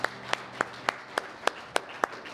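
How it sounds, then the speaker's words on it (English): Audience clapping for a band at a morning gathering: sharp, evenly spaced claps in a steady beat, about nine across the stretch, fairly close over a quiet room. "big round of applause for the band"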